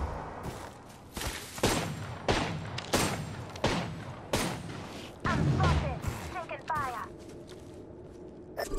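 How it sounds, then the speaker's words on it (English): Repeated gunfire bursts in the Apex Legends video game, sharp loud shots in irregular clusters across several seconds, some near and some farther off, with game voice lines mixed in. "They're firing on me."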